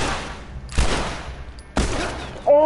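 Three sharp, loud gunshots from The Last of Us, each followed by a decaying echoing tail, spaced about a second apart. A voice briefly cuts in at the very end.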